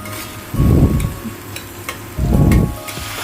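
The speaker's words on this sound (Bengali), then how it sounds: "জিরে আর আদা বাটা ভেজে তারপরে টমেটোটাকে দিয়ে ভালো করে ভেজে নিলাম" Tomato frying in a pan with cumin and ginger paste gives two loud bursts of sizzling as it is stirred, with a softer steady crackle between them.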